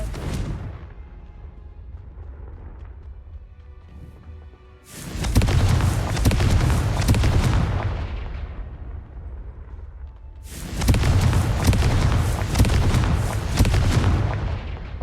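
Confringo spell blasts in Hogwarts Legacy, two heavy booming explosions with deep rumbling bodies that roll on for several seconds each, following a quieter stretch of low game ambience.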